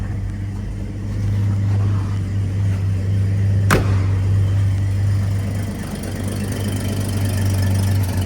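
A restored 1953 Chevrolet 3100 pickup engine idles steadily with a low, even hum and a constant drone, broken once by a brief sharp click midway.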